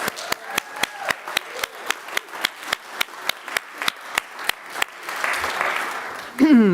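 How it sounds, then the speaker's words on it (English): A congregation gives a round of applause at a Unitarian assembly. A few people clap slowly and evenly at first, then the clapping thins out into a brief murmur of voices. "So let's give Sophia a round of applause."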